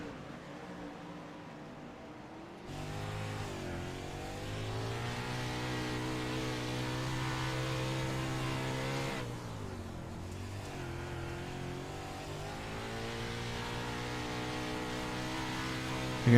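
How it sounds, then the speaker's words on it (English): Dirt sprint car racing at Williams Grove, its engine droning after a brief quiet start, pitch dipping and rising as the driver lifts and reapplies throttle while sliding around the bottom of the track, loud and sustained. "You can hear him on and off the throttle"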